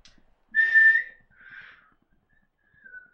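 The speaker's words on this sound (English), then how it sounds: "We're just whistling" Indoors during a Wii Sports tennis game, someone whistles a few short tones: one clear, strong note, a softer second one, then a faint, thin attempt after a pause.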